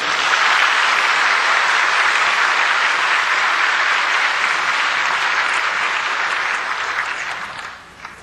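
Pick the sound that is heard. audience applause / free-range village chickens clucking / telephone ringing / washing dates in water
audience applause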